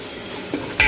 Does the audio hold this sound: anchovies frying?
yes